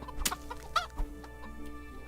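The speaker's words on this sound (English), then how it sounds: "Chicken, chicken, chicken." A video game chicken gives a few short, abrupt clucks in quick succession, close and distinct over a faint steady background tone.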